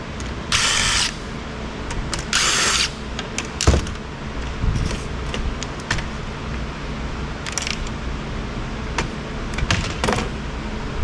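A power drill unscrewing Torx screws to remove speakers from an HP all-in-one computer, with several short whirring bursts separated by clicks, knocks and handling noises, close by.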